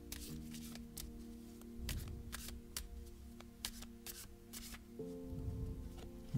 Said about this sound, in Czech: Hodí mi vytáhnout tři karty.